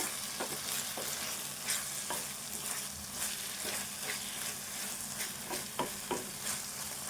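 Sliced okra frying in a pan, a continuous close sizzle broken by sharp stirring scrapes and clacks at irregular intervals, with no voices.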